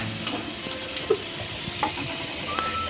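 Taro and potato fry in a pan with a soft, steady sizzle and crackle, faint and close, broken by a few small clinks and splashes of water.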